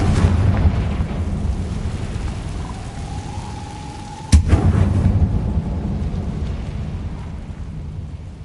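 Confringo fire spell in Hogwarts Legacy: a single sharp, loud burst hits midway through a steady rain-like ambient wash, with a brief ringing tone just before it.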